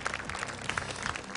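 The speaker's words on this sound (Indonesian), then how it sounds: "boleh tepuk tangan sekali lagi untuk Zulaikha." A studio audience at a Qur'an recitation competition briefly applauds a contestant, a short burst of clapping heard together with music or a voice.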